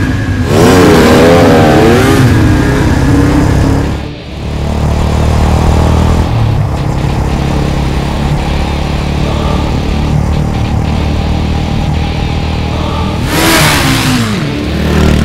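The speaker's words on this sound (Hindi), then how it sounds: "बाइक की आवाज आवती है ना सर" A loud motorcycle engine revs hard and rises in pitch, drops briefly, then roars on steadily before surging again at the end.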